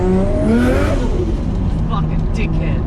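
A 550HP Nissan Skyline R33 with an RB25DET engine revving hard on a mountain touge road, a loud, close, continuous engine roar with rising and falling pitch and heavy wind rumble.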